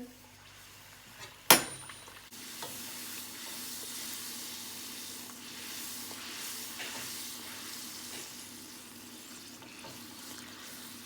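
Puris deep-fry in hot oil over a medium flame: after a sharp clack, a continuous bubbling sizzle rises and holds steady, close and moderately loud, with faint occasional utensil touches.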